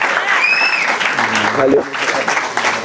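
Audience applause at a church testimony gathering, a loud, dense burst of clapping lasting the whole moment, with a voice speaking briefly over it.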